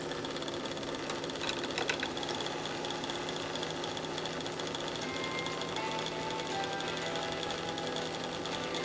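A restored American Flyer toy steam locomotive runs smoothly with a fine, even mechanical whir and faint ticking, quiet and continuous with no speech over it.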